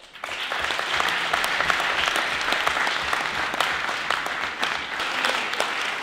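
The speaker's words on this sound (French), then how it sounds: "sous les applaudissements de la salle, bien évidemment" Audience applause in the hall at the Coupe de France de débat 2022, a dense, steady clapping that fills the room for several seconds without voices.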